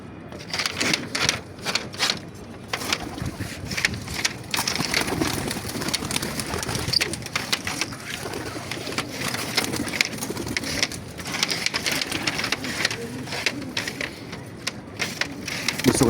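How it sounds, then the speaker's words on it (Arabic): Pigeons in a pigeon loft flutter, shuffle and coo up close amid rustling and scraping, a busy irregular mix of wing flaps and clatter that continues throughout. "وهنفتح بقى ايه على بيت الحمام."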